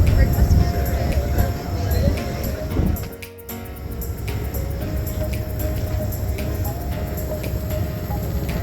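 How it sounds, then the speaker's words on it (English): A passenger train idling and moving at the Denali visitor center platform, a loud steady low rumble with a sustained mechanical tone and brief dip, crowd noise and voices mixed in throughout. "This train just came in, and all of these folks are getting ready to go back on it."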